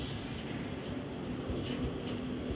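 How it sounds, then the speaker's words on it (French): Two JR trains at a station in Japan, one bound for Nagano and one for Karuizawa, give a steady, continuous low rumble of engines and rolling stock, with no voices over it. "Il y a 2 trains d'un coup."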